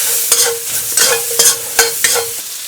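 Fresh thyme leaves fry and get stirred in a pot, with steady close sizzling broken by five scraping stir strokes at a roughly even pace and no voices.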